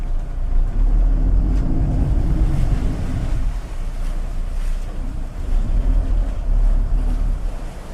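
A Tiara 39 Coupe's Volvo IPS engines rumble steadily close by while backing into a slip in Sausalito, California; water sloshes and wind buffets the microphone; no voices.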